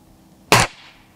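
A single sharp air rifle pellet shot fired at a chipboard plank gives one loud crack with a short decaying tail, with quiet before and after.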